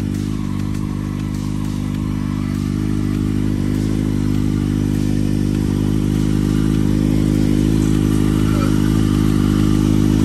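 A Kawasaki Ninja ZX6R motorcycle idles steadily and loudly up close, a dense continuous engine drone that holds through the whole stretch, with faint voices underneath.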